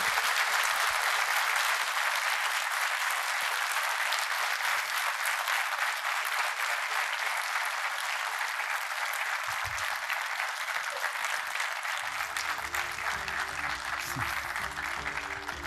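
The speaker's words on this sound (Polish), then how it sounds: "duże brawa dla naszego gościa" An audience at a book launch applauds the guest author with loud, sustained clapping from many hands, lasting about twelve seconds before a voice begins speaking as the applause thins behind him.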